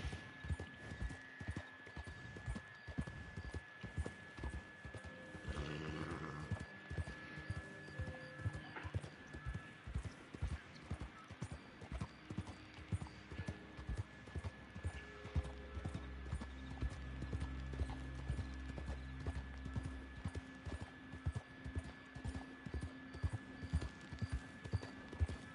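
Horse hooves clip-clop in a steady, continuous rhythm in the Red Dead Online video game, with a soft neigh midway and a low rumbling background underneath.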